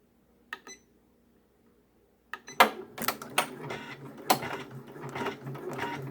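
A multi-needle embroidery machine starts stitching after a faint click or two and near silence, then runs with a busy mechanical chatter of rapid needle strokes and sharper clacks.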